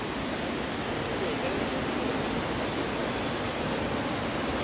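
Loud, steady roar of the swollen Teesta river rushing beneath Phidang bridge in North Sikkim, a dense broadband wash of water filling the whole stretch without a break.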